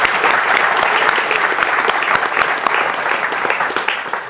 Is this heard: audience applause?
yes